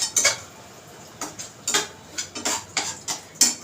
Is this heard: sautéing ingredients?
yes